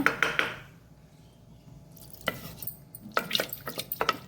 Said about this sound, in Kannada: ಇದಕ್ಕೆ ಸ್ವಲ್ಪ ನೀರನ್ನು ಹಾಕೊಳ್ಳೋಣ